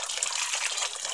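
A steady rush of gushing water pours out of a hand pump, loud and close, without pause.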